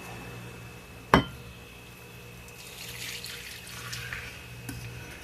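Browned butter being poured from a pan into a bowl. A sharp clink of the pan on the bowl is followed a couple of seconds later by a soft, wet pouring hiss.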